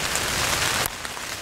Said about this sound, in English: Now we're sleeping in the rain.